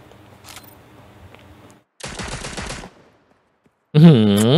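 Bursts of gunfire in the mobile battle royale game Cyber Hunter, a short stretch of rapid automatic shots followed by a louder buzzing burst, mixed with game sounds.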